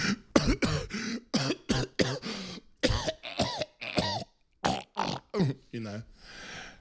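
A person coughs and clears their throat in a rapid series of harsh, close bursts, with short pauses and a final breathy exhale.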